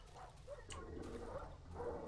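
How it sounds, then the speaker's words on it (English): Angry dogs bark and yip in the horror survival game Darkwood, a loose run of overlapping barks and whimpers at moderate distance over a steady low ambient drone. "I think those dogs are still angry over there"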